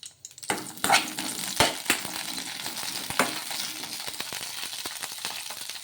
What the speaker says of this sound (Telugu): ఇలా కొంచెం నూనె అనేది వేసేసుకొని పచ్చిమిర్చిని మగ్గించుకుందాము